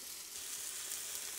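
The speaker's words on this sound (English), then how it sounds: "we'll flip to the other side and cook the other side through as well" Kangaroo burger patties sizzle steadily in a pan at a camp cookout, a continuous close, even frying hiss with no talking.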